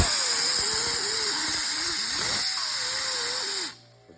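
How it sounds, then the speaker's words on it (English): A bench grinder grinding down bolts in a workshop during a starter replacement, giving a loud, steady, high-pitched whine that holds throughout and then cuts off abruptly near the end. "Right now, Junior's over there on the bench grinder, grinding up the bolts there."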